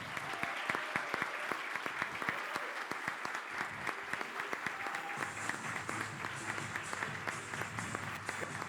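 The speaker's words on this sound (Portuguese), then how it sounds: "Nós precisamos apreciar, abençoar e energia através de uma salva de palmas." Audience at a sales event in Caxias applauds steadily, a dense wash of many hands clapping throughout without pause, with a few louder individual claps standing out near the front.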